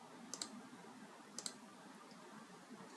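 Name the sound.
computer mouse clicks selecting a folder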